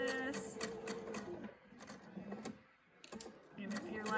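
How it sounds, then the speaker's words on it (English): Sewing machine running in bursts while a 1/4 inch side seam is sewn on a pleated fabric face mask, with short pauses between passes, close and moderately loud. "you're just going to sew up the sides with a 1/4 inch seam. Just like this."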